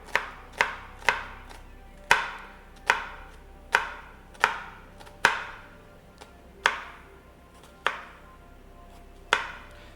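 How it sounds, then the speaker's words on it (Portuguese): Knife chopping an onion into fine brunoise on a board, a dozen or so crisp, close single taps spaced irregularly, each with a short ring-off, over a quiet background. "A cebola, a gente pode cortar ela bem picadinho, ou, se você conhecer os termos, em brunoise."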